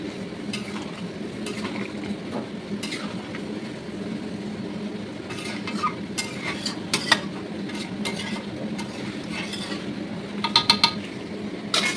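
Chicken curry being stirred in a pot after garam masala goes in, a steady low cooking rumble with scattered scraping clicks of the spoon, a few sharper taps near the end.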